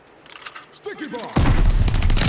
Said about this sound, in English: Sticky bomb!